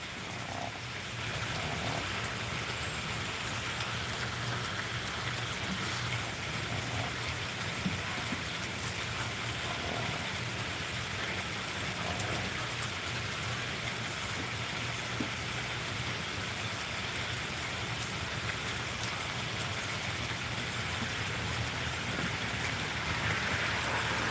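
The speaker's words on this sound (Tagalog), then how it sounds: "Umuulan guys. Ayan, umuulan po." Continuous rainfall patters steadily on surfaces, a soft, even wash of drops lasting the whole stretch without any talking.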